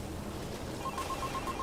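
A telephone ringing in a home at night, a faint, repeated electronic trill rising out of a low, hissing background in the latter half.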